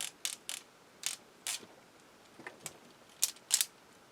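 Soft ratchet joints in a toy figure's legs clicking in short, separate bursts, close and fairly quiet, with irregular gaps between the clicks.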